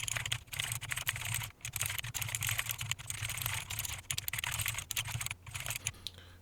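Steady, fast typing on a computer keyboard, close and clear, with dense clicking keystrokes and a few brief pauses, no talk.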